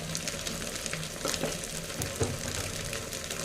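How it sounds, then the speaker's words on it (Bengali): Spice mix of salt, turmeric, cumin and coriander powder frying in a pan, a continuous sizzle with a few stirring scrapes. "এবার আবার মশলাটাকে ভালো করে একটু আমাকে ভেজে নিতে হবে"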